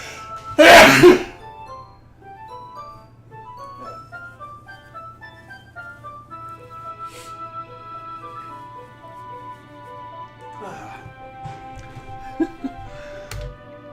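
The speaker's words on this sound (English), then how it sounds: "I need to sneeze" A single loud sneeze bursts out near the start, followed by a steady low hum and faint tonal background sounds with occasional soft clicks.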